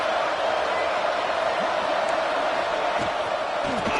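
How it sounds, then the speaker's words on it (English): A fired-up football crowd roars in a steady, dense wall of noise from the stands, with scattered whoops and shouts rising through the din. "this crowd is fired up. Listen to this noise here"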